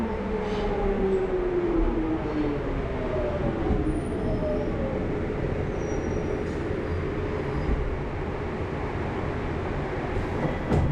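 A London Underground Bakerloo line train rumbles along at speed, a constant roar with faint wheel squeals and screeching tones sliding across it, no talking.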